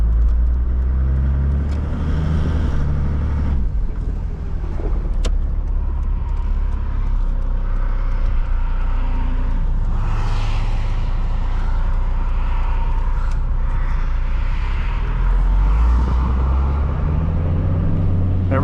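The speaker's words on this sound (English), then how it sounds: "This is my first time driving a right side steering wheel car." Interior drive in a 1992 Toyota Land Cruiser with a 4.2-litre turbo engine and right-hand steering: a steady low engine drone and road rumble run throughout, with occasional thumps and brief rattles, close and unbroken.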